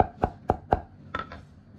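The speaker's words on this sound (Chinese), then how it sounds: "然后呢，剁成黄豆粒大小的颗粒" A knife chops ginger into small bean-sized bits on a cutting board, four sharp evenly spaced thuds followed by two softer knocks, close and alone.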